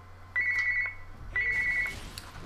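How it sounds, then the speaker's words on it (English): A telephone rings indoors in two electronic trilling bursts about a second apart, clear and fairly close over a low background hum. "phone's ringing."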